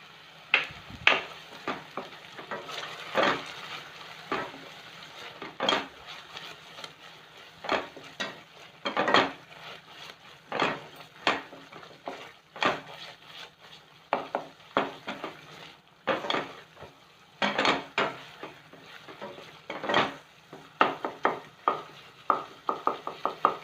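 Apple halwa cooking in ghee is stirred in a pan: irregular scraping strokes and soft knocks of a spoon against the pan repeat again and again over a quiet background sizzle, close and fairly faint, with no talk.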